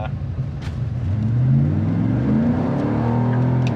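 A 1987 Pontiac Trans Am GTA engine is held at full throttle, its loud, close revving note climbing steadily and sustained under occasional faint speech.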